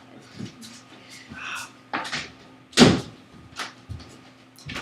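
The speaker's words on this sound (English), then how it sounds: "I'm going to shut the door so Trevor can sleep." A door is shut indoors, with several handling knocks and rattles leading to one sharp, loud thud near the middle, set against a faint steady hum.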